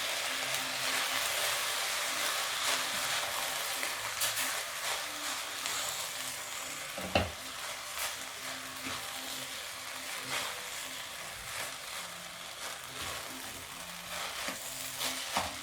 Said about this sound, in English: Then I diluted a bit of soy sauce, so I'm going to add that in